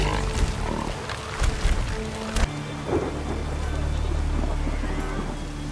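Steady rain and rolling thunder from the video game The Witcher 3, with a loud crack near the start giving way to a sustained rumbling downpour.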